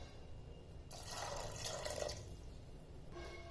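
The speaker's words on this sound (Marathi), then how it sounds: "बटाटे आणि वाटाणे पूर्ण बुडेल इतकं पाणी टाकायचं" About two to three cups of water are poured into a cooker over potatoes and peas. A brief, soft splashing gush rises in the middle of a quiet stretch, then fades to faint trickles.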